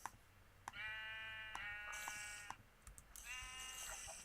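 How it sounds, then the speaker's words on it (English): Minecraft sheep bleating several times in quick, wavering calls, fairly close and clear, over soft keyboard and mouse clicks. "Let's try to get a sheep over to the real world"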